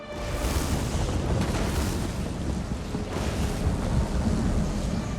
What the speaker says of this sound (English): You find that the lab is constantly being struck with unnatural lightning